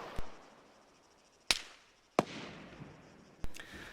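Gunfire in Arma 3: sharp, distant-sounding single shots, four in about four seconds at uneven spacing, each cracking out against quiet background ambience with a short decaying tail.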